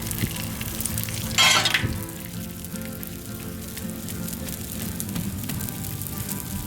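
Bacon and ham sizzle steadily on a hot flat-top griddle, a close, dense crackle with a brief louder burst of spatter near the start, no voices.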